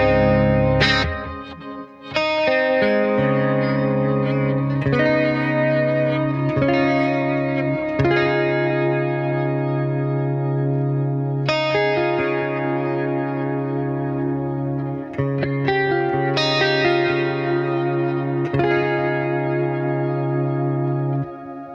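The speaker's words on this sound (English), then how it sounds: "Let's go to the delay section where we have some options. Shimmer delay, let's try that." An electric guitar played through a Beam Mini amp with shimmer delay rings out in sustained chords, each strum blooming into bright, octave-rich echoing trails that overlap and wash together, dreamy and spacious, with no talk.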